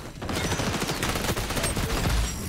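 Rapid MP7 submachine-gun bursts in the shooter XDefiant, dense close fire packed into a loud, continuous volley with no speech over it.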